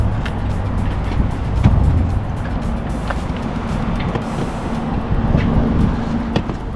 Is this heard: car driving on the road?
yes